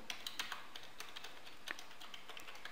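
Quiet, quick tapping on a computer keyboard, irregular clicks in short bursts with no voices.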